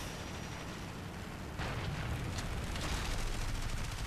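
Aircraft cannon fire from a Heinkel He 112 B-0 in the War Thunder combat flight game. A dense, continuous roar of firing and engine noise grows louder partway through and carries on steadily with no talking.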